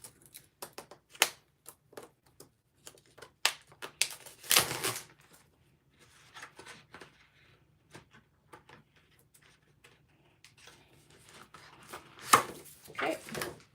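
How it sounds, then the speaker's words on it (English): A new pack of paper is torn open: a series of sharp crinkling rips and rustles in uneven bursts, with louder tearing in the middle and near the end, and quiet pauses between them. "I have to break open a new thing of paper."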